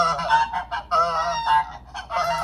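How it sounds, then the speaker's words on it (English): AI-generated sound effect of a flock of geese honking during a flyby: overlapping nasal honks in loud, rapid bursts across the whole stretch, with no talking. "And then I needed some geese for the flyby."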